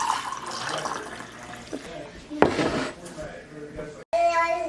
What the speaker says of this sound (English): whey and adding water is called washing the curds, and this is a signature step of making GOUDA.